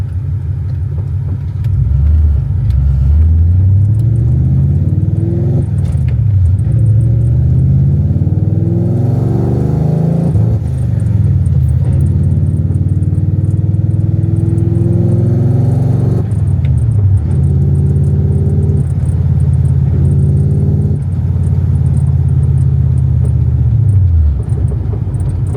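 Coyote-swapped car's engine running under load with a steady low rumble and rising tones, stumbling and breaking up several times as the two-step limiter cuts in, loud and close throughout.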